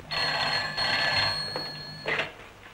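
An old telephone bell rings in a room in a vintage Egyptian film, a loud continuous metallic trill that stops, then a short second burst, with no talking.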